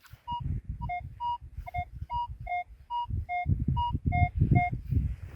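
A metal detector sounds a steady pulsing signal tone while someone digs outdoors, repeating electronic beeps in a regular rhythm over scraping and thudding noises from the digging.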